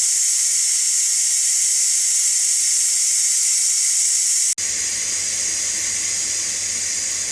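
Ninja Foodi pressure cooker releasing steam through its pressure release valve, a loud, continuous high hiss that runs unbroken, shifting abruptly midway into a rougher hiss with a low rumble beneath, no talking.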